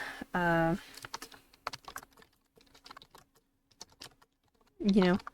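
Fingers type rapidly on a computer keyboard in a quiet room, a string of light, close key clicks, with a person speaking briefly at the start and again at the end.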